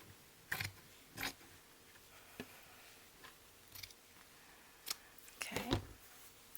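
Scissors snip through a journal cover along a marked line in a quiet room, making several short separate crisp cuts spaced irregularly, with a cluster of quicker snips near the end.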